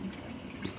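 Water flows from a pipe fed by a motor pump, a steady, close rushing and gushing stream under pressure with no pauses.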